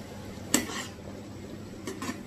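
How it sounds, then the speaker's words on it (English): Spicy mushroom varuval being stirred in a pan: a sharp utensil scrape against the metal near the start, then a couple of lighter scraping strokes later over a faint cooking background. "Just mix it well."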